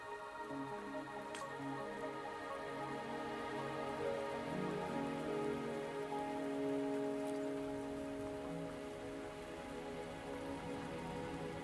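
Steady rain patters and drips continuously under a faint ambient hum in the video game Wuthering Waves, soft and even throughout with no voices.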